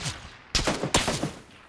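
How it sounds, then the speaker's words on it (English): Gunfire in a video game shooter during duo play: two sharp, loud shots about half a second apart, each trailing into a rattling burst that fades over the following moment. "now I'm taking gunfire"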